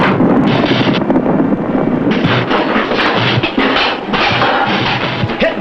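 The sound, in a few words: ammunition exploding, gunfire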